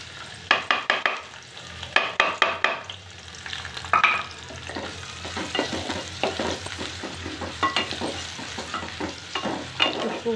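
Chopped onion going into hot oil with star anise, two or three cloves and cinnamon, sizzling as a spatula clatters and scrapes in bursts of quick strokes; near and fairly loud, with no speech.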